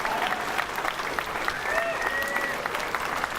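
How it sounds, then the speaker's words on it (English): A large audience at the Classic Tetris World Championship 2018 final applauds Jonas Neubauer, with dense, sustained clapping and crowd noise throughout and a few faint cheers or whistles mixed in. "Let's give him a huge round of applause"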